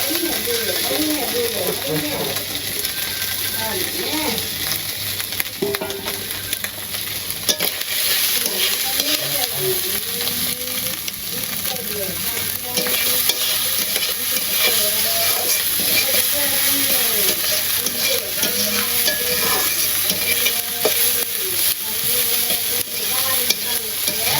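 Fish and onions fry in a pan with a loud, steady sizzle and hiss that runs the whole time, with stirring sounds and a voice talking underneath.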